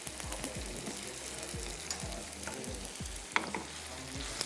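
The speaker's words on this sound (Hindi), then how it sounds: "टमाटर बड़े ज़बरदस्त से भुन चुके हैं" Tomato masala with salt and crushed red chilli frying in a pan, stirred with repeated spoon scrapes and taps over a quiet, steady sizzle, close up and without speech.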